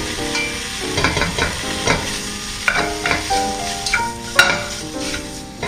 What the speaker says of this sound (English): give it a quick stir just to loosen the bacon pieces